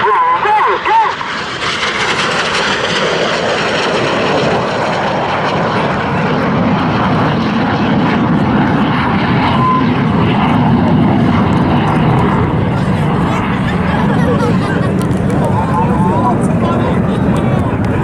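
RAF Red Arrows jets making a final low pass at Southport Airshow, a loud, sustained roar of engines that swells and holds throughout, with a commentator talking over it and crowd ambience beneath.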